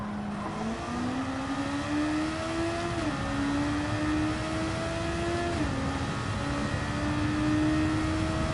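Race car engine in Gran Turismo 7 holds a steady high drone, with pitch climbing through gears and dropping at each shift during a long lobby race.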